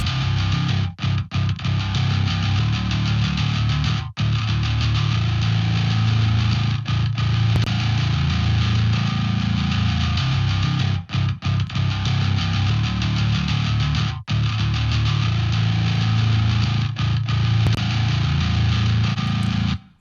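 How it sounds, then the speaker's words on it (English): A distorted metal bass plays a sustained, dense line with brief stops, dry at first and then with room reverb added, loud and alone with no talking. "I'm gonna start dry and add in the room reverb so you can hear the difference"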